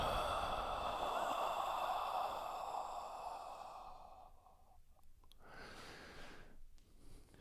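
A long, forceful breath is let out after a held inhale during a hot yoga class, loud and breathy for about four seconds before tapering into quiet room noise.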